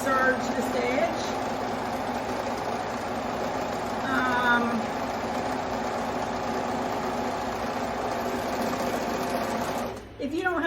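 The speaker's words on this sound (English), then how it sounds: "I've got a little serger over here set up. And I'm just gonna go in here and serge this edge." A small serger overlocking the raw edge of a knit shirt, its rapid mechanical stitching hum running steadily for about ten seconds before stopping, with a voice talking briefly over it.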